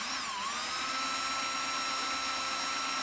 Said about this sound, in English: It's a lot easier to use the 1/16 drill bit to make that hole deep enough.